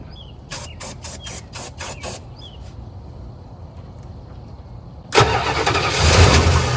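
A 1985 Dodge Ram D150 pickup, left sitting a year or two, cranks in a series of rhythmic starter bursts, pauses, then fires and catches into a loud, rough idle close by.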